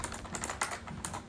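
Fingers type a command on a computer keyboard, a steady run of quick, close, fairly quiet key clicks with a few slightly harder taps and no talking.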